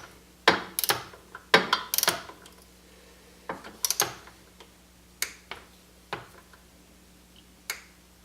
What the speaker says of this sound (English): that is what I'm going to torque this one to, is 45 inch-pounds